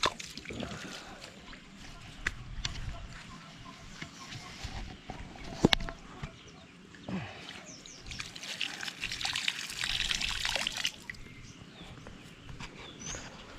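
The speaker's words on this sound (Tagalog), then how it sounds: "ito yung tubig namin galing sa bundok" Water from a mountain source trickles and dribbles steadily in a rural village, with faint splashes, occasional knocks and soft background sounds, moderately close and fairly quiet.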